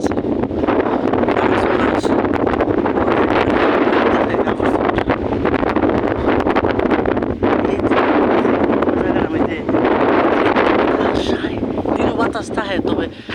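Strong wind blowing at night, a steady, loud roar with gusts buffeting close to the microphone throughout.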